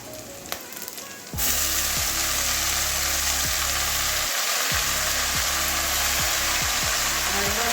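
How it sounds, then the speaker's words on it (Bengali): Water spinach dropped into hot oil with nigella seeds and browned onion, the sizzle bursting loud and close after a quiet start, then a steady hiss broken by repeated scraping strokes of a spatula; no one talks. "এবারে ধুয়ে রাখা কলমি শাকটা দিয়ে দেবো"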